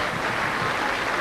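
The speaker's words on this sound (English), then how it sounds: "Round of applause for Duncan Jones, who's leaving the field." A rugby crowd at a Neath-Swansea Ospreys versus Newport Gwent Dragons match applauds, a dense, steady wash of many hands clapping together across the stadium, loud and sustained for the whole moment with no speech.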